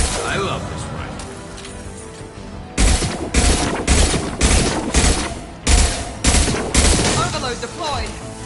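Rifle fire in the video game Mass Effect 2: after quieter game ambience and a voice, several loud rapid bursts of automatic gunfire erupt up close in quick succession, separated by short pauses.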